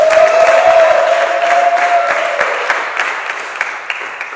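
A church congregation at a Sunday service applauds and cheers loudly and steadily for several seconds as a sustained crowd roar, with a voice briefly audible over it at the start.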